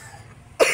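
A single short cough from a woman who has a cold, one sharp burst near the end after a moment of quiet room tone, close and fairly loud.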